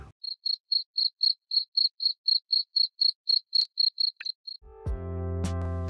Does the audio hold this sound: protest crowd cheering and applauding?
no